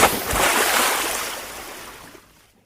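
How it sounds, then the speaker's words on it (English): About half a cup of water poured into a sauté pan for spicy chicken wings, one loud splashing rush that starts at once and fades out over two seconds, with no voices. "And we're going to use about a half a cup of water."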